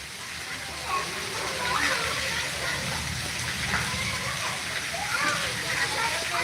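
Heavy rain driven by wind in Morbi, a dense, steady roar of water that fills the whole scene without a break, loud and close.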